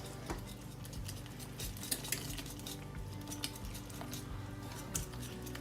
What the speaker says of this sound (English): Let me get my whisk and let's see if we can do a little bit better with the whisk